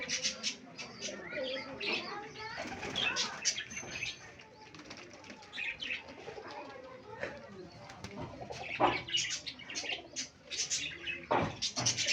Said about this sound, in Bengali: এই দেখেন কবুতর